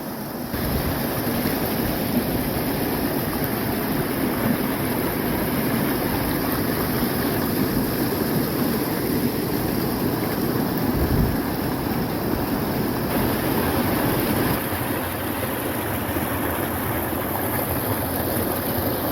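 Wolf Creek rushing along near Ebbetts Pass on the Pacific Crest Trail, a steady full roar of flowing water with some wind buffeting the microphone, holding constant for the whole stretch with no voices.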